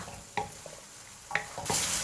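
Spatula strokes stir a stir-fry of mushrooms and oyster sauce in a hot pan, two or three distinct scraping stirs over a low sizzle that swells louder near the end.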